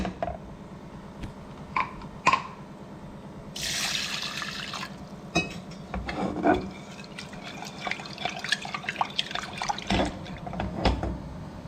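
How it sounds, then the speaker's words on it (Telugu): Toor dal (split pigeon peas) being rinsed with water inside a pressure cooker: close, intermittent sloshing, splashing and dripping, with a brief louder splash partway through and no talking. "కందిపప్పును కడిగి స్టవ్ మీద పెడుతున్నా చూడండి"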